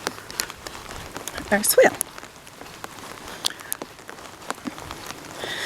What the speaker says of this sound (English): So we've gotten a little more than an inch so far in this rain event